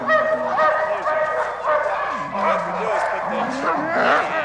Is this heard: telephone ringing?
no